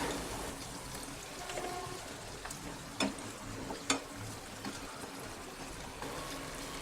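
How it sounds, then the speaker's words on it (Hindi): Semolina puris for golgappa deep-frying in hot oil, a steady soft crackling sizzle throughout with a couple of sharper pops, close and moderately quiet, no talking. "हमारी पूरियाँ अब फ्राई हो चुकी हैं"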